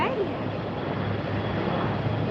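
An American Airlines airliner passes at Tampa airport on a very windy day, giving a steady broadband roar of jet engine and wind noise that holds loud and even throughout, with a hint of voice beneath.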